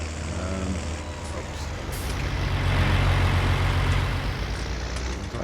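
A tractor engine in Farming Simulator 19, the cheapest model with a front mower mount, droning steadily with a low rumble that swells slightly midway; a voice talks over it.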